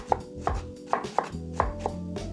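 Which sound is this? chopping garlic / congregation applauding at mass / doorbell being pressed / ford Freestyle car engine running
chopping garlic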